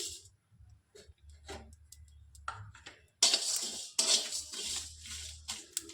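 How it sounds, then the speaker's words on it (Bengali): Whole spices for a chana chicken dish are tipped into a very hot dry pan and begin to roast, giving sharp pattering, crackling and light scraping. The sound grows louder in the second half, with no talking. "আমি মশলাগুলো আগে ভেজে নেব সবগুলো দিয়ে দিচ্ছি"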